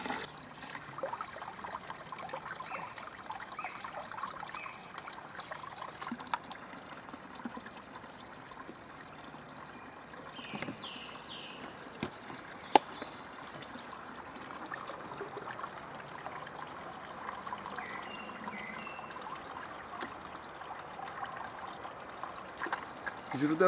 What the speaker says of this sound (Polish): Ale tu prosto z rury kryształ woda.